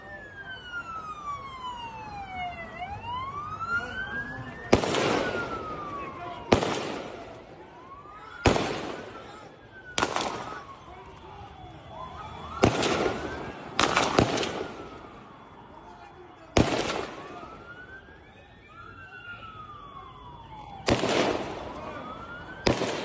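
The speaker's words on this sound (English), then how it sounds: "So Naveed firing off multiple rounds from that bridge." Several sharp, loud cracks ring out one at a time from a bridge in news footage of a shooting at Bondi Beach, with a wailing siren rising and falling throughout.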